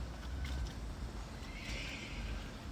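A horse on a ranch whinnies once in the middle, fairly faint and distant, over a constant low outdoor rumble.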